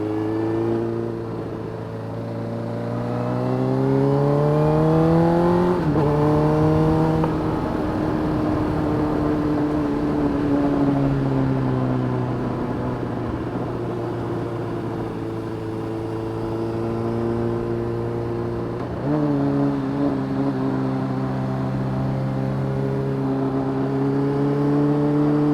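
A Honda CB motorcycle engine drones loudly and steadily on a mountain ride, rising and falling in pitch as the rider works through the gears, with wind noise underneath.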